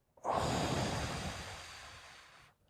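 One deep, drawn-out exhale during a guided breathing exercise, close and breathy, starting abruptly and slowly fading over about two seconds.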